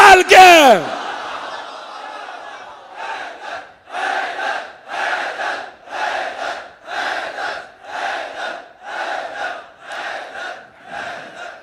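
Crowd at a Muharram majlis chanting religious slogans in unison, loud and close, a strong call-and-response rhythm of about a dozen evenly spaced shouted phrases after a brief opening burst.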